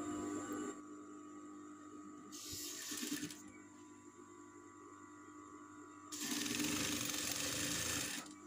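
A sewing machine stitches a fabric waistband in two loud bursts of steady whirring, one short and one longer, separated by quiet pauses with a faint background hum.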